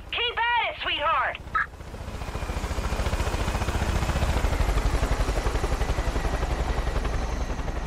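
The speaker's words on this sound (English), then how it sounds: "There's already one helicopter." A helicopter in the video game Far Cry 5 whirs with a steady, rapid rotor chop that builds in after a brief spoken remark and then holds loud and continuous to the end.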